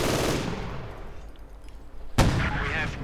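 Bursts of MG42 machine gun fire in the Company of Heroes 2 video game, loud rattling volleys that ease off briefly before a sharp, heavy burst resumes near the end.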